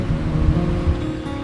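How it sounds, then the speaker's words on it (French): Strong wind roars and buffets the microphone over the sea at a night shore-fishing spot, with surf rumbling underneath. The sound is a steady, loud, close wash for a brief moment, with no talking. "Il y a vachement plus de vent que ce qui était prévu."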